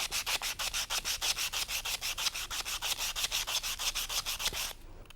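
Sandpaper scrapes a dull metal piece in quick rhythmic back-and-forth strokes, about two dozen harsh rasping passes close up, ending abruptly.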